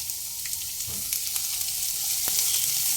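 Chopped medium onion hits a pan for a fish-head and pumpkin-greens chorchori, giving a steady close sizzle of frying with a few faint clicks and no talking.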